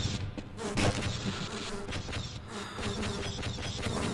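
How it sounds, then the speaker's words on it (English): Bees buzz in the video game Half-Life, a dense, steady insect drone that fills the whole stretch at moderate loudness, with no voices over it. "God, I'm so sick of your bees."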